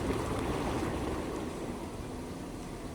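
Water jets run alone in a jacuzzi-style swimming pool in Thailand that has three jets on each side, giving a steady, even rushing of water that stays constant throughout with no voices.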